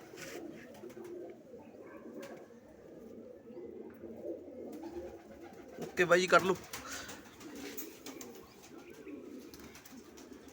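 Large domestic pigeons, a male and female pair kept for sale, cooing softly in low, repeated burbling calls that run steadily under a voice, with a brief louder burst partway through.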